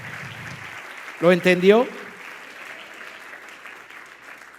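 A congregation in church applauds steadily at moderate volume, a soft continuous patter, while a voice briefly speaks over it.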